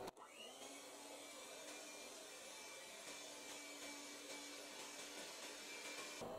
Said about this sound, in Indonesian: Kemudian kita mixer lagi hingga tercampur rata.